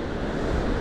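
Broadband wash of ocean surf on Mouritz Beach, steady and continuous with wind rumble across the microphone, no voices.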